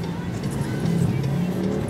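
A Wuling Almaz engine labours up a steep hill, a steady mid-level drone with a slight rise in pitch, heard from inside the car.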